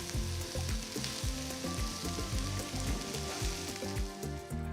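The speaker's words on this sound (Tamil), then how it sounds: "வெங்காயம் சேர்த்து 2-3 நிமிஷம் நல்லா வதக்கிக்கலாம்." Thinly sliced large onions frying with potatoes in a pan for a Tamil-style omelette dish, a steady close sizzle with repeated stirring scrapes throughout, no talking.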